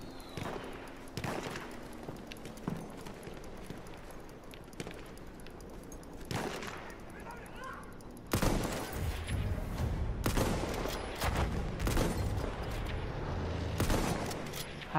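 Arisaka bolt-action rifle shots in Battlefield 1, sharp loud cracks scattered across the stretch with other gunfire and battle noise, denser and louder in the second half.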